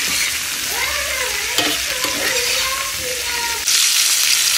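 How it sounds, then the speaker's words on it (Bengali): Black cumin seeds and asafoetida sizzle in hot oil in a kadai as a tempering, a steady crackling hiss close by. A voice talks briefly over it, and the sizzle rises sharply near the end. "একটুখানি কালো জিরে আর হিং ফোড়ন দিয়েছি।"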